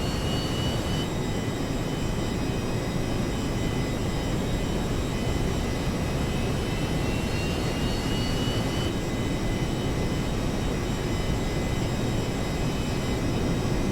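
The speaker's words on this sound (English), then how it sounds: "Here comes engine 2." Jet engine of a B-1A bomber spooling up in a flight simulator game, a steady loud broadband roar with high whining tones that rise and shift, continuous throughout with no talking.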